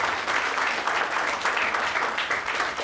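Warm, continuous applause fills a hall at the Baroda Road Transport Association annual general meeting as members are welcomed, many hands clapping at a steady level with no speech over it.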